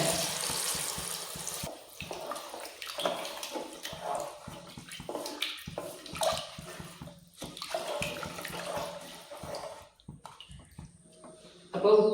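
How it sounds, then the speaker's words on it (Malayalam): Water is poured into a pot for egg biryani, pouring and splashing in uneven bursts, pausing briefly before a final loud splash at the end. "ഒന്നാം ഭാഗത്തിൽ വെള്ളം ഒഴിച്ചു കൊടുക്കുന്നുണ്ട്"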